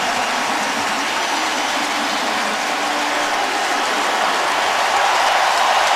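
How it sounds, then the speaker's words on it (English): Loud, continuous roar of a home crowd cheering at EverBank Field in Jacksonville during a 2013 Jaguars–Titans NFL game, a dense wash of voices that stays strong throughout. "the crowd goes crazy"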